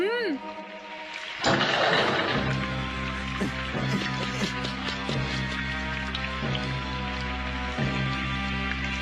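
Steady rain in a Doraemon cartoon, a continuous patter with scattered drop sounds under a dramatic music score, starting after a brief tonal sound effect and continuing throughout.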